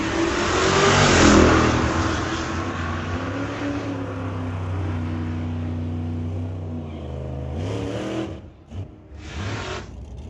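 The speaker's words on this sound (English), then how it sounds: "bringing up Mike Cabe in the 55 Chev, taking on Garvey Cooper in the 64 Ford" A 1955 Chevrolet and a 1964 Ford launch in an old-time drag race, engines roaring loud and close, revving up through rising gear pulls before cutting off abruptly near the end.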